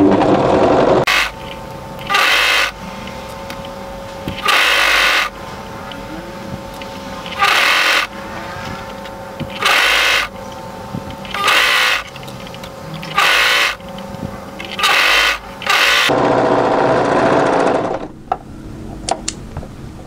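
A sewing machine stitches through three layers of garment fabric for a turtleneck tunic in about eight loud, close bursts of a second or so each, separated by short pauses with fabric handling.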